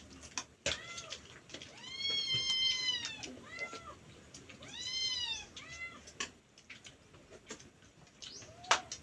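Several cats meow repeatedly and fairly close on a farm during an outdoor breakfast, with drawn-out yowls among soft background rustling.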